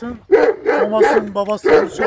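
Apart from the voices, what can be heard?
Anatolian shepherd dog barking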